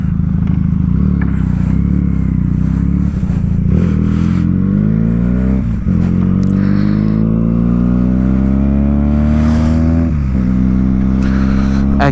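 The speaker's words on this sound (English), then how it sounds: "Come on, Vishal, get onto the bike." A Benelli TNT 300 motorcycle engine drones steadily as the bike rides on a hill road, its pitch climbing and falling through gear changes, loud and continuous with wind noise throughout.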